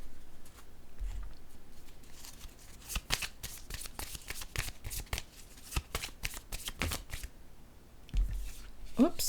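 A deck of playing cards is swapped out and shuffled up close, with repeated riffling and flicking bursts and no talk.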